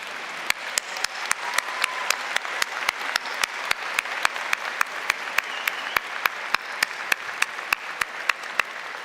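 A graduation convocation audience applauds steadily and densely, with one sharp, close clap or knock repeating at a regular beat over the continuous wash of hands.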